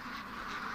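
Ducks quacking in a steady, dense chorus at close range, a flock being herded in on a winter day, with no talk over the calls.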